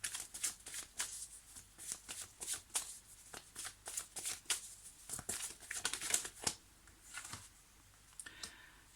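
Oracle cards being shuffled by hand during a tarot-style reading, a steady run of crisp papery riffles and flutters with short pauses, fairly close, no voices.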